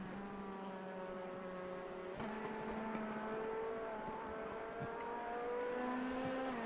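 An LMP2 race car in the iRacing sim racing game holds a steady, droning engine note for several seconds. The pitch shifts up and down slightly, and nobody speaks.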